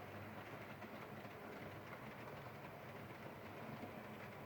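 An OO gauge Lima BR216 model locomotive runs along the track with a steady, even rolling hum and faint rattle, continuous and fairly quiet throughout, with no voices.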